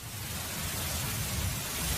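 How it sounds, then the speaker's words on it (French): A cosmic signal recording produces an even, broadband hiss much like white noise, steady and unbroken across the short stretch with a faint grainy texture underneath. "Aussi sifflant que soit ce son cosmique, il diffère d'un pur bruit blanc,"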